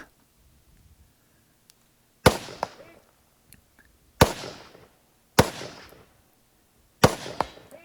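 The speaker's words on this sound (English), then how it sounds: "And we got some pyrotechnics as well." Pyrotechnic charges at a shooting competition go off in four sharp, loud blasts spaced a second or two apart, each decaying into a short rumble, with near silence between.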